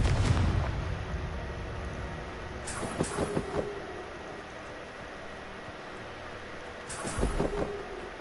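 A Confringo fire spell bursts in the Hogwarts Legacy video game, heavy booming blasts landing near the start, around three seconds and again near seven seconds, with rumbling debris between.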